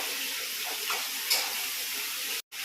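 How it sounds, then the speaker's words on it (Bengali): Rohu fish tanda with ginger paste sautéing in a pan, a steady close sizzle and frying hiss with faint stirring scrapes throughout, briefly cutting out near the end. "ভালো করে কষবো এটা।"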